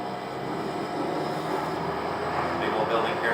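Little Rock Metro streetcar on the Blue Line pulling away from the Second and Center stop, a steady close rumble of motor and rail noise holding even throughout.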